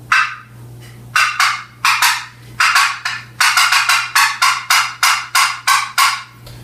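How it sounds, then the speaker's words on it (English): Sharp, rapid raspy clucks from a turkey box call, fired off in irregular bursts of quick notes with short pauses, loud and close, no talking. "one of the other calls of a turkey you'll use is cutting of a hen."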